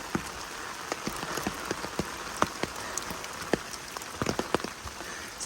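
Steady rain pattering on umbrellas and rain gear along the Appalachian Trail, a dense close patter with sharper individual drops tapping irregularly throughout.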